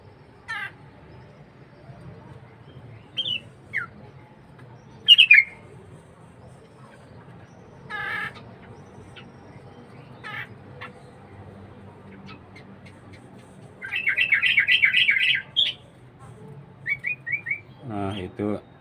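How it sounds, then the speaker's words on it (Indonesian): A sooty-headed bulbul sings at dawn, giving scattered short chirps and a longer bubbling phrase with quick whistled notes, moderately close in a quiet outdoor setting. "Jadi yang lebih awal bangun tidur itu adalah burung trucuk. Pagi-pagi dia subuh-subuh sudah ya sudah berkicau,"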